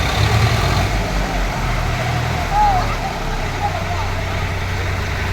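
A tractor engine labors under heavy load while towing another tractor uphill, a steady loud low rumble throughout with voices talking over it.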